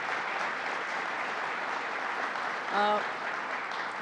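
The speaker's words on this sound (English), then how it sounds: "let's give a round of applause to Randy Wilkin" A seated audience gives a steady round of applause for the regional council co-chair at a Central New York state budget announcement, a dense even wash of clapping that holds at one level throughout with a brief tonal sound near the end.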